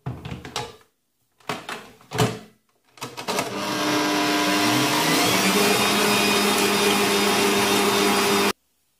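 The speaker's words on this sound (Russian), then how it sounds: "будем взбивать на максимальной скорости миксера 10 минут" An electric mixer whisks eggs with sugar at maximum speed, a steady loud whirring hum that starts after a few short clunks and knocks and then runs continuously before stopping abruptly.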